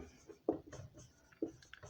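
A pen writes out a question during a biology lesson, with short scratchy strokes in uneven bursts, close and fairly quiet, without speech.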